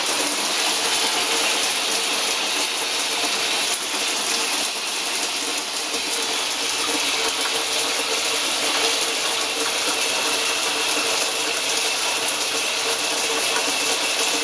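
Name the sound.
RV water pump with water running from tap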